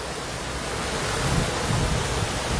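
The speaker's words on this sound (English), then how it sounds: "I've never seen this street with this much water lapping on it" Flood water lapping on a street in Carlisle during a heavy storm, a broad, steady rushing wash that swells slightly louder toward the end, with wind noise mixed in and no talk.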